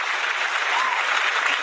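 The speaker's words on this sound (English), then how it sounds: "There's shorter sound effects for applause." Short burst of studio applause sound effect dropped into a live online broadcast, a steady wash of many hands clapping at even loudness throughout, with no voices over it.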